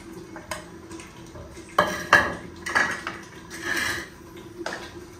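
A lid goes onto a pot of boiling lentils in a home kitchen, giving a few sharp metallic clanks and rattles of pot and cover against a low, steady background hum, with no one speaking.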